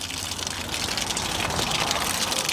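Water pours out of an RV's opened low point valve, a steady broadband gushing rush up close that swells slightly toward the end, with no voices.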